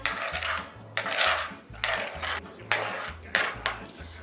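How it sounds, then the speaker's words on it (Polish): A knife dices a tomato on a cutting board, giving a series of close, regular chopping knocks, roughly eight strokes each followed by a short rustle. "No I pozostałą część pomidora kroję w kostkę."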